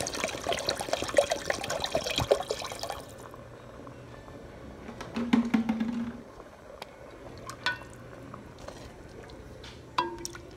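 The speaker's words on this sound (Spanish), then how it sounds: "Y aquí le voy a agregar, que es el medio litro de agua." Half a litre of water is poured into red rice cooking in a pan, giving a steady splashing pour for about three seconds, followed by quieter bubbling, clinks and faint trickles.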